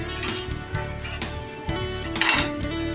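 Rava appe being gently flipped in an appe pan: light clinks and scrapes of a metal utensil against the pan, a few close taps over a low background hum.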